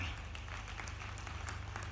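Brief burst of dense, even clapping from a crowd at an official ceremony marking Birsa Munda's birth anniversary, heard close and continuous over a low steady hum.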